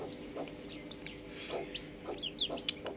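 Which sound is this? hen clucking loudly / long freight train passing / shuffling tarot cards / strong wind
hen clucking loudly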